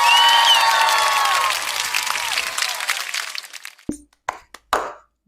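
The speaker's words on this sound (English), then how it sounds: "Let's clap and say it for 3 times." A crowd of children applauding loudly in a dense burst that fades out, followed by a few scattered sharp claps.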